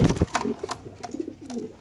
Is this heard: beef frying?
no